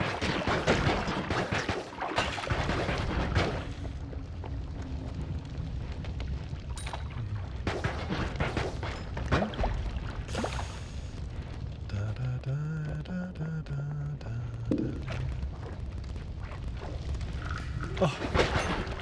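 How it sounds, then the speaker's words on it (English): Explosions in the video game Noita sound as dull booms and crackling bursts within a dense, noisy game soundscape, with someone talking throughout. "Let's see if we can make that one explode. Nice. Oh man, I love the explosions in this game."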